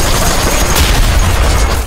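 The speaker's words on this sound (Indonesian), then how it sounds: "Setelah itu, ranjau itu pun ditembak." A naval mine is shot with gunfire in a scene from the film Godzilla Minus One, a loud, dense blast with booming low rumble that sustains throughout the short moment, with no speech.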